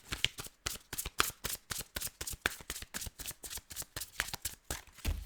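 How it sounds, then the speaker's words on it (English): Fairy Tarot cards by Doreen Virtue shuffled by hand in a steady run of quick riffling bursts, close and crisp, with no talking over them. "using the Fairy Tarot cards by Doreen Virtue"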